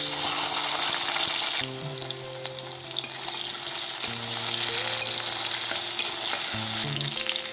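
Chopped tomato goes into a hot pan with dried red chilli and whole cumin for a Bengali gathi kochu dish, giving loud, steady close sizzling and frying that shifts in tone as the pan is stirred.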